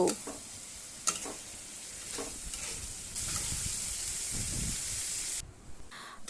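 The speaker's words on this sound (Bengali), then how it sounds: "এবার মশলার সঙ্গে চিংড়ি মাছটা একটু ভালো করে কষিয়ে নেব" Prawns sautéed with spices and a splash of water in a pan give off a moderate sizzle with intermittent stirring scrapes, growing louder midway before the sound cuts off abruptly near the end.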